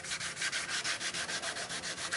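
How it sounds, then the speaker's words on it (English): Hand sanding across black guide coat on body filler over a Suzuki motorcycle fuel tank, a steady rhythmic rasp of strokes, close and even, with no voices. "by sanding that off"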